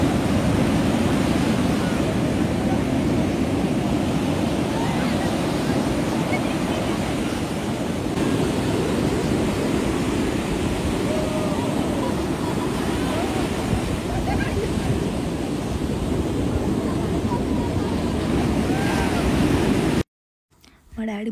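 Sea waves wash up a Goa beach in a continuous, close, loud surf roar with wind buffeting the microphone, ending abruptly.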